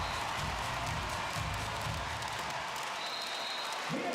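Handball arena crowd at a women's European championship match roars with sustained cheering and applause after a goal, a loud dense wash of clapping and voices that continues throughout.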